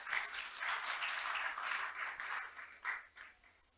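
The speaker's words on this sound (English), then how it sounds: "an applause from you people" Audience applause at a policy lecture on national key performance indicators, a moderate, fairly distant clapping that swells and then thins out toward the end.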